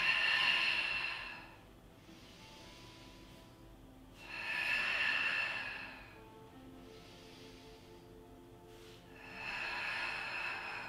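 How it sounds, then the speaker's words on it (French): Slow, controlled exhalations during a Pilates exercise come as long breathy hisses, three in a row with quiet pauses between, close and soft with no talking. "Et expire."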